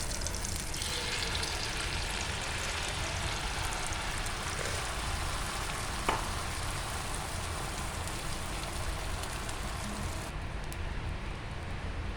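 Bread omelette egg batter sizzling in butter in a pan: a continuous, even, hissing fry that holds steady for several seconds, close by, with one faint tap partway through and no talking.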